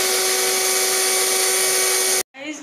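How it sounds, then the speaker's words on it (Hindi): A kitchen electric grinder blends peeled, chopped beetroot pieces into a watery pulp, giving a loud, steady high-pitched whir close by that stops abruptly, followed by a brief voice. "मैं इसको ग्राइंड कर लूँगी ताकि ये वाटरी फॉर्म में आ जाए"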